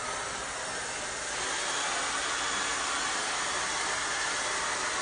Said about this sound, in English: If you have the luxury of a blow dryer, go for it.